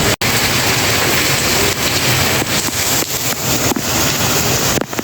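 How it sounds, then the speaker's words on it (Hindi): Heavy rain pours down hard and steadily, a dense, close, unbroken roar of water with a few brief dips, no voices over it. "बहुत ही ज़्यादा अनटॉलरेबल बारिश हो रही है अब"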